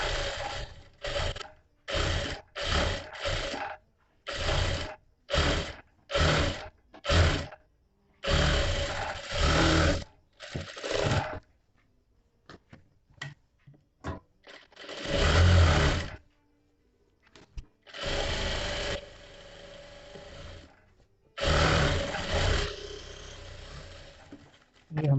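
A sewing machine stitches the sleeve of a princess-cut blouse in many short stop-start bursts, followed by a few longer runs with quiet gaps between them.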